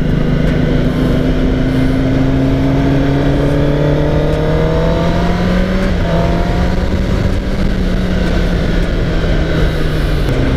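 A new 2021 Kawasaki ZX10R motorcycle on a test ride, its engine droning loud and steady with rising and falling pitch as it accelerates under heavy wind rush, with no talk.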